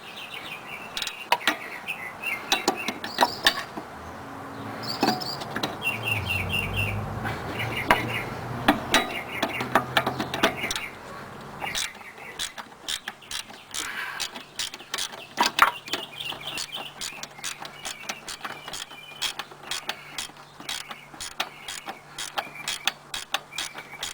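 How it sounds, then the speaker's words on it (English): A 14mm wrench works loose the upper ball joint bolt on a 1995-1998 Honda Odyssey, producing close, irregular metallic clicks and scrapes that continue throughout, with some background chirps. "I'm going to put the 14mm wrench like so. And get the other one loosened up."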